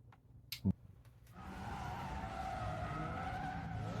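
Race car drifting in the MF Ghost anime, a sustained high tire squeal rising after a couple of short knocks and holding loud and steady over engine rumble to the end.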